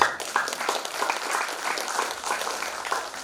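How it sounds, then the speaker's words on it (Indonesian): An audience of Aisyiyah women at a Muhammadiyah branch assembly in Kalibaru, Banyuwangi, breaks into steady applause, dense, sustained clapping filling the hall for a few seconds with no speech over it. "Tepuk tangan."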